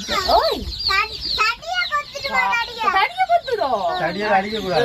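A cluster of brightly coloured young chicks cheep loudly and continuously nearby, with high, rapid, overlapping peeps, while a person talks over them.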